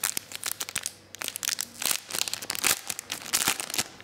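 Crinkly plastic packaging rustles and crackles loudly in close, irregular bursts as a black and blue PlayStation-branded pouch for Sony wireless stereo headphones is unwrapped, with no voice.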